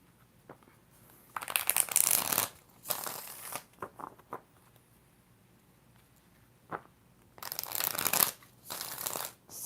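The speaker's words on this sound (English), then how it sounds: "We're going to do 6 shuffles for Nadia." Tarot cards are shuffled by hand in several loud, crisp riffling bursts, with quieter card taps and handling between them and no voices.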